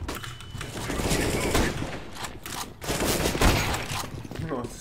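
Rapid bursts of gunfire in a first-person shooter round, Counter-Strike style with scout and AK rifles, crackle loudly and repeatedly across the whole stretch, with a player's voice talking over the shots.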